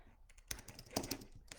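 Quick bursts of keystrokes on a computer keyboard, typed with long nails, clicking in an uneven patter close by over a faint background.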